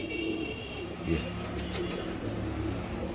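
Pigeons coo softly in a loft of pure Saadnaa bloodline birds, a low steady murmur running throughout beneath a voice talking.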